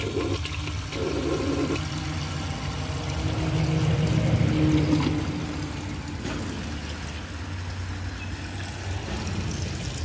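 Water rushes and gurgles steadily from a 2001 Kohler Wellworth toilet tank into the bowl, a continuous draining wash with a slight swell midway.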